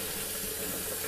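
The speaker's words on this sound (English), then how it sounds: "quick at filling this jug up" Tap water, a hot and cold mix, runs steadily into a jug in a darkroom, making an even, moderately loud hissing rush with no talking over it.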